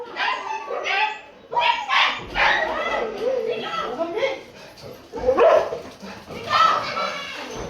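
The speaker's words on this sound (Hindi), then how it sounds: "2 डॉगी की लड़ाई हो गई" Two dogs fight in a cold-weather outdoor scrap, sharp barks and yips bursting in repeated clusters at moderate distance, mixed with a voice talking excitedly over them.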